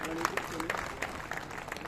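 A crowd of party workers applauds at a conference in a college hall, dense clapping at moderate distance with voices talking over it.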